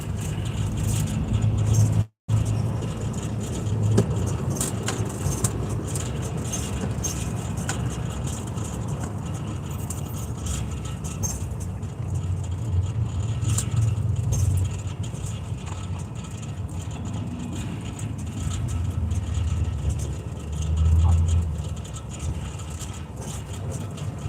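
Steady road traffic heard from inside a moving truck cab, a continuous low engine and tire rumble with passing vehicles swelling and fading, no talk over it.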